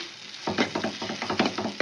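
Potatoes with a spoonful of homemade roasted spice mix being stirred and fried in a pan, a rapid run of close scraping strokes over a steady sizzle, no talk.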